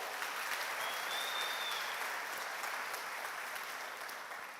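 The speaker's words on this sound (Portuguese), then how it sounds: "Vamos dar uma salva de palmas para o Nelson." A church congregation applauds together, a dense, steady wash of clapping that fills the room and slowly tapers off at the end.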